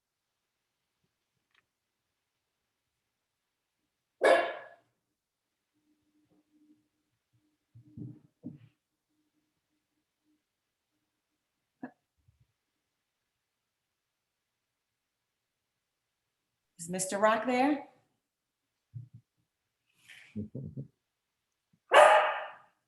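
A dog barks in a quiet indoor space during an online call, a few short sharp bursts spread apart with silence between, followed by a brief spoken question.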